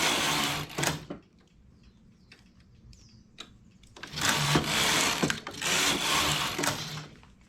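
A knitting machine carriage runs rows of a brick stitch in bursts of loud mechanical whirring and clacking, with a quieter gap of small clicks between passes.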